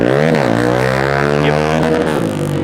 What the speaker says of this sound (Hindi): ये बाइक की आवाज़ सुन रहे हो, यहाँ एक्चुअली एक रैली चल रही है बाइक्स की।